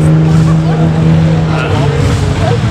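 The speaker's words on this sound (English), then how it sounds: "A nice Jaguar SVR." A Jaguar SVR at the Chateau Impney hill climb gives a steady, loud engine drone with a low throbbing hum, alongside other cars and crowd noise, while a person talks over it.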